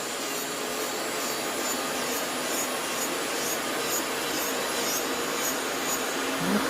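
A Melody Susie nail dust collector runs on its highest setting, giving a steady, even whooshing fan roar that holds at the same level throughout, with no talking.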